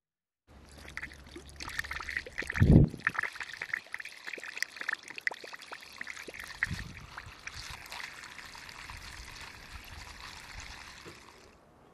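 Water trickles and splashes from an opened valve on a hot water tank, a steady close stream with a brief louder gush near the start and sloshing that continues throughout.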